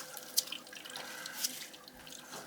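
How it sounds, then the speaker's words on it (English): Water from a leaking toilet dripping steadily, with faint irregular drips and splashes over a soft running-water hiss. "Nope, she's still dripping."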